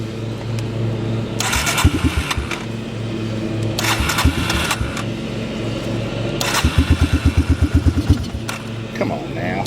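A lawn mower engine that has run out of gas and been switched to reserve gets pulled several times, with short sputtering bursts that die away and a rapid chugging burst near the end, under a voice.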